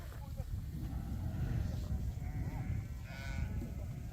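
A flock of sheep bleats faintly at a distance over a loud, rumbling outdoor background, with a few scattered calls rising above the noise.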